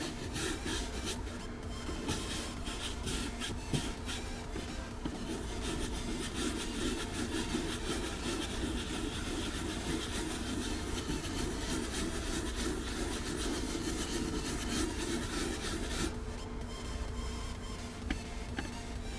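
Light brushing agitation on thin car interior material in a moldy SUV, a steady rapid scratchy scrubbing that runs close and continuous throughout, with no voices.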